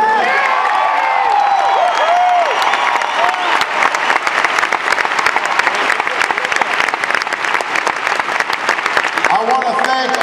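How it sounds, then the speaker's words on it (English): Voices carry briefly before a large crowd at a Barack Obama campaign rally in Minnesota breaks into loud, sustained applause that fills the rest of the stretch. "Please give a big round of applause to Jane Freeman."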